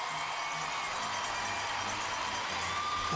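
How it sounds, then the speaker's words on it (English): Arena crowd at an NCAA women's gymnastics meet, the 2011 Pac-10 Showcase, roaring and cheering on its feet after an all-around-winning routine: a dense, steady wash of distant crowd noise with no pauses. "And the crowd on their feet."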